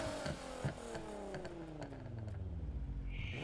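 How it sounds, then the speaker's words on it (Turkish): A car's exhaust in Need for Speed Heat revs with a thin, whiny engine note that slides downward, then settles into a low, rough idle rumble, fairly quiet with no talking. "Arabanın sesi şu an inceldi,"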